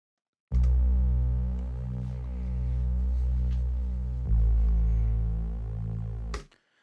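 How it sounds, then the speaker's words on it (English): A smooth, sustained synth bass line built from sine and pulse waves plays alone, soft round tones with a slight buzzy edge, shifting pitch once midway before fading out. "This was the main bass, the smooth bass."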